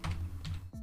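A handful of soft keystrokes on a computer keyboard clack close by and faintly in quiet room tone, two quick clusters followed by a single tap.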